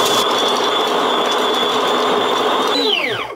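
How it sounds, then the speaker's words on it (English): A cheap sub-$100 electric espresso grinder whirs loudly and steadily up close with a high mechanical whine, then winds down with a falling pitch as it switches off near the end. "It's very easy to fire up the grinder. You just press the electronic start and stop button."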